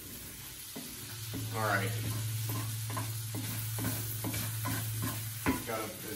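Potatoes fry in a pan, aiming for crispy, with a steady close sizzle and repeated scraping stirs; a person says a few words over it.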